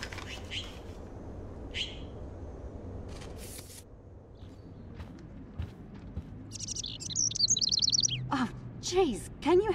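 A bird in Life Is Strange gives scattered bright chirps and tweets, with a faster trilling burst and rising calls near the end over a low ambient background.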